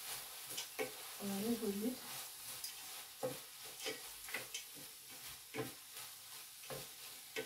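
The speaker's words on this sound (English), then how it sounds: "So I'll just mix this in" Food being stirred in a hot frying pan, a steady sizzle broken by repeated scraping strokes, with a brief quiet voice early on.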